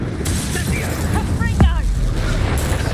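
A Confringo fire spell explodes in Hogwarts Legacy, a brief sharp burst with a shattering edge about halfway through, set against a steady game-audio backdrop while a person talks.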